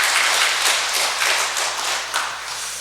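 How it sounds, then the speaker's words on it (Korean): A church congregation claps together during a Sunday service, a dense, lively patter of many hands that fades slightly toward the end. "박수 한번 쳐주시기 바랍니다"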